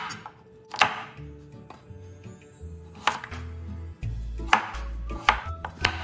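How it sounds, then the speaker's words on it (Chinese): A knife chops peeled cassava into small pieces on a board: sharp, irregular thuds with crisp knocks, close and fairly loud, in bursts with short pauses. "然后再全部切成小颗粒。"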